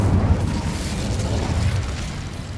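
Incendio fire spell explosion in the video game Hogwarts Legacy, a loud, dense burst of roaring, crackling blast noise that fills the whole stretch with a heavy low rumble and slowly eases off.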